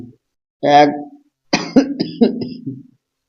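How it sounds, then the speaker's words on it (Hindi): A person coughs a few times up close, a harsh throat-clearing burst followed by a short string of rougher coughs. "खांसी आ गई"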